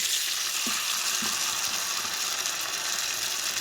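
Pieces of bitter gourd frying in hot oil, a loud, steady, close sizzle with a few faint clinks and stirring scrapes underneath.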